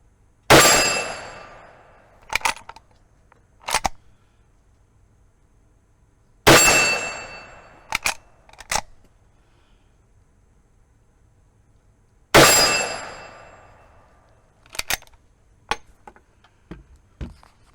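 A Rossi lever action rifle in .357 Magnum fired three times outdoors, each loud crack followed by a decaying echo and then two quick metallic clacks from cycling the lever.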